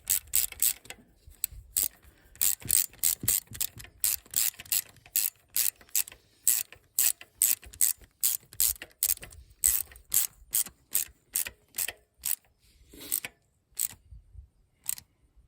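A hand ratchet clicks in rapid bursts while tightening bolts on a Honda CR-V shift solenoid, sharp metallic pawl ticks repeating in quick rhythmic runs with brief pauses, close and loud.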